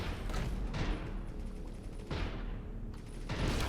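Ship guns firing in the space game Avorion, a dense, steady barrage of rapid weapon bursts that keeps going throughout, with heavier blasts swelling at intervals and no talking over it.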